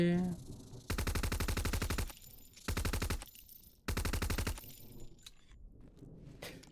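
Automatic gunfire in the survival shooter Zero Sievert: three loud bursts of rapid shots, the first long, then two shorter ones, separated by brief quiet gaps with faint background game noise.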